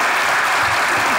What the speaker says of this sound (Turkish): Alkışlar bu şahane ekibe gelsin.